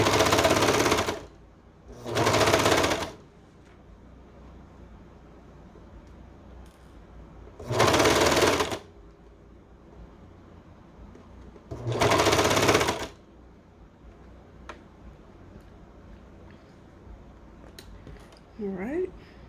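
A serger sewing machine stitching fabric for bell bottom pants runs in four separate loud bursts of steady whirring, each lasting about a second, with quiet pauses between them.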